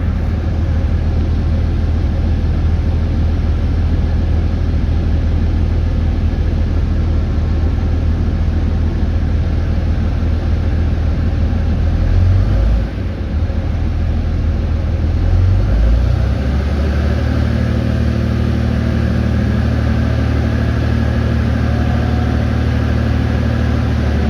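A Ram truck engine idles with a steady low hum as the air conditioning is switched on, the tone shifting partway through as the load changes and the idle settles into a slightly different pitch.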